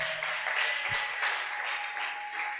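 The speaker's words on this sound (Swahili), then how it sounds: "Wapigie makofi hawa watakatifu." A church congregation at a Lutheran (KKKT) seminar bursts into steady applause, a dense, even wash of clapping that fills the whole moment without a break.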